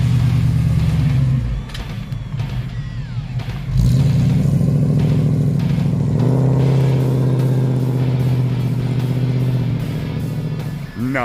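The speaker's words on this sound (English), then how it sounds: "1965 Mustang, she is on her way home" A 1965 Ford Mustang rumbles close by with a low engine drone, then revs and accelerates as it pulls away, its steady exhaust tone holding for several seconds.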